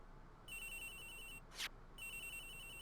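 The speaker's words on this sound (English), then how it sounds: "Agent Hicks's phone. It's ringing from somewhere, sir" Mobile phone ringtone in the Ace Attorney Investigations video game, a bright electronic ring repeating in two bursts with a short sharp blip between them, clear and alone against quiet background.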